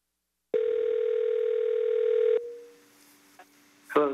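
A steady telephone dial tone holds loud and continuous for about two seconds, then drops to a quieter tone with faint clicks before a brief burst of sound at the end, heard while a city planning commission meeting calls an applicant.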